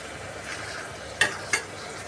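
Brinjal and tomato pieces fry in a covered pan with a soft steady sizzle, broken by two sharp clinks of a spoon or lid about a third of a second apart.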